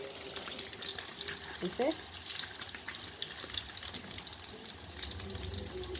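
Meat frying in hot oil makes a dense, continuous crackling sizzle, with a short voice and a brief clink partway through.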